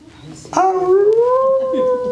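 A human voice imitates a wolf howl, one long sustained wail rising and holding steady, loud and close.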